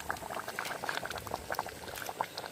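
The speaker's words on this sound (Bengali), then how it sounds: "আপনারা দেখুন কত সুন্দর টকবক করে ফুটছে" Chicken curry bubbles in a clay pot, soft irregular pops and gurgles of thick liquid at low volume, close and steady with no voices.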